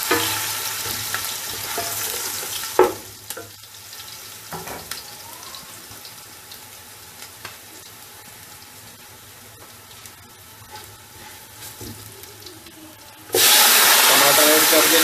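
Garlic, bay leaf and garam masala sizzle in hot oil with browned onions for Charsadda thick-grain rice, a steady crackling fry with occasional stirring, which surges into a loud hiss near the end.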